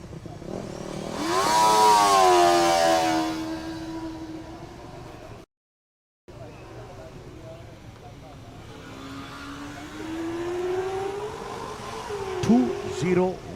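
A Honda CRF supermoto motorcycle engine at a hill climb race, revving loudly and rising in pitch, then dropping out briefly before returning with more climbing revs, with a voice speaking over it.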